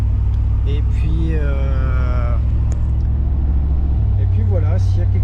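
A Chevrolet Camaro Z28 cruising calmly, its low engine rumble steady and close throughout while someone talks over it.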